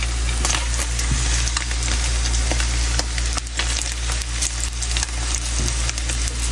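Breakfast sizzles in a frying pan during home cooking in South Korea, a steady crackling hiss running throughout with occasional sharper pops and stirring noises, no voices.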